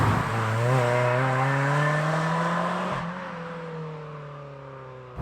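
A Ford Fiesta ST hot hatch accelerates hard, its engine note climbing steeply through the revs, then a quick gear change and a second pull, loud and close.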